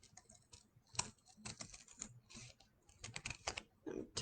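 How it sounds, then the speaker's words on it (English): Scissors cutting paper in small circles for a homemade craft stethoscope, making quick, close, crisp snipping clicks in irregular bursts. "I'm going to cut and turn it in little circles as I go"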